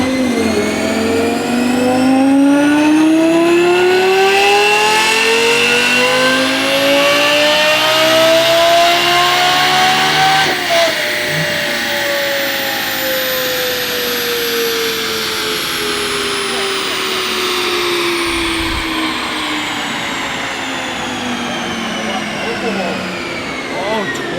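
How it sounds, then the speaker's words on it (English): A straight-piped Lexus LFA V10 engine revs on a dyno, climbing steadily upward in a long, loud sustained pull, then drops and winds down, droning continuously. "Dyno run number 1 with the stock exhaust"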